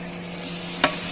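Grated coconut fries in hot oil with sliced banana, giving a steady close sizzle with a low hum beneath and one brief sharp stir or clatter near the end.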